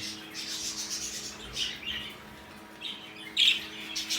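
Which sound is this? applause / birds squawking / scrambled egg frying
birds squawking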